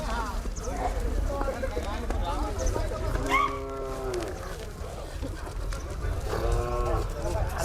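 Several drawn-out calf moos, one long call midway and another near the end, at a cattle market in Lasalgaon, with people talking throughout over steady outdoor background noise.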